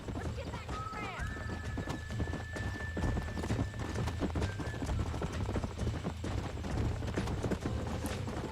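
Horse hooves clip-clop in a steady rhythm in Red Dead Redemption, with a horse whinny early on and game voices talking over the hoofbeats.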